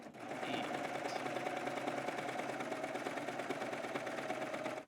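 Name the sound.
serger sewing knit fabric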